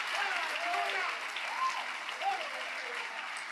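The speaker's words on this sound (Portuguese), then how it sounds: "Pode aplaudir com força." A church congregation applauds during a sermon, a steady wash of clapping that is fairly distant and soft, with a preacher's voice rising over it.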